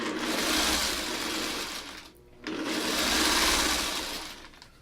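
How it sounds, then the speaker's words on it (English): Sewing machine stitching fabric in a steady, close whirring run, pausing briefly midway before starting up again at the same even speed. "So I will keep sewing with it."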